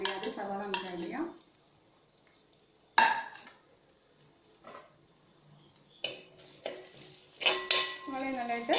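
Chopped onion goes into a pan of frying cauliflower for gobi manchurian. Intermittent clatters of utensil against pan and stirring scrapes are separated by quiet gaps, over a faint background sizzle.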